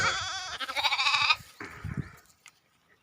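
Young sheep penned inside a thatched hut bleat loudly at close range, with a long wavering cry followed after a short pause by a shorter, quieter bleat, then near silence.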